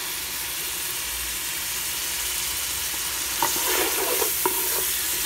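Tomatoes and spices fry into a masala in a pan, a loud, dense, steady sizzle with a few scraping stirs near the end, heard close with no voices.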